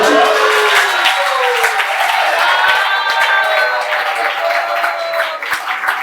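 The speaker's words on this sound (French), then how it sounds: "Applaudissez le roi très très beau." Applause for the king at a wedding celebration: a steady crowd clapping sustained across the whole stretch, with cheering voices and tonal sounds mixed in, fairly loud and close.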